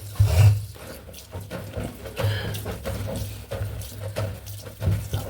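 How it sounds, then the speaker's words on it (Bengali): Tap water runs steadily while puja utensils are scrubbed and rinsed in a sink, with clinks and splashes of metal dishes breaking through the flow at close range. "ঠাকুরের বাসন মাজবো"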